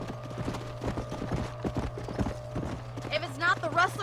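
A horse's hooves clip-clop in a steady trotting rhythm in Red Dead Redemption 2, with game sound around and a voice speaking briefly near the end.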